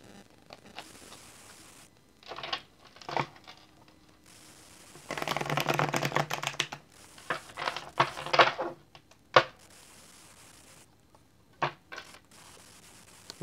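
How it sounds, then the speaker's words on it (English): Tarot cards riffle and slap together in short bursts, with a longer run of shuffling in the middle and quiet pauses between. "I'm going to attempt to shuffle now"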